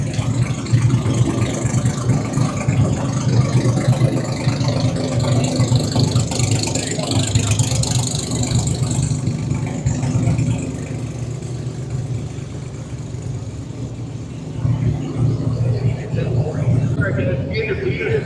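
Engine of a six-speed Toyota Supra at a street-car drag racing event in Rockingham, North Carolina, a loud, steady idle rumble with mechanical ratcheting throughout, mixed with crowd noise and nearby talk.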